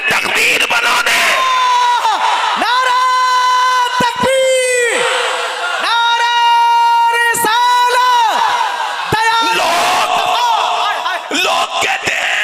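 A large crowd answers a takbir call by chanting Allahu Akbar in loud, drawn-out unison. The shout rises several times in a row, with short gaps between repeats, and fills the space.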